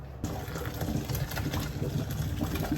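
Hot pasta water and noodles poured from a pot into a strainer in a home kitchen, a steady close splashing gush that runs continuously for a few seconds after a brief quiet start.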